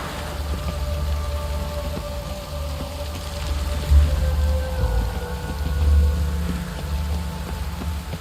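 Steady rainfall hisses in the background while low rumbles of thunder roll in twice, alongside faint sustained ambient tones, in The Witcher 3: Wild Hunt.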